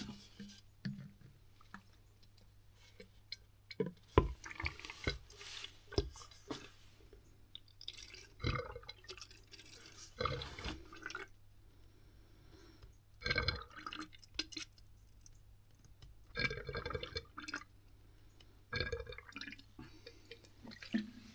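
Isopropyl alcohol poured into a measuring container to the 100 ml mark, heard as quiet scattered drips and trickles with liquid splashing against the vessel, plus a faint steady hum in the background.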